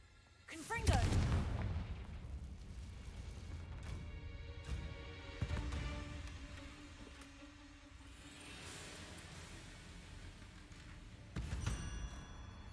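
Fiery spell explosions in the video game Hogwarts Legacy, a loud booming blast up front followed by rumbling, crackling bursts and another strong impact near the end, with game sounds in between.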